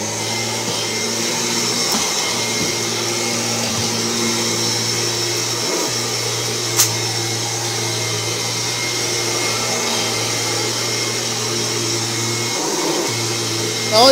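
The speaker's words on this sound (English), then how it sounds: "Okay, so the vacuum's in drive and it's ready to go." A 1999 Kirby G6 upright vacuum cleaner runs steadily for the whole stretch, a loud, even motor drone with a constant hum and no talking over it.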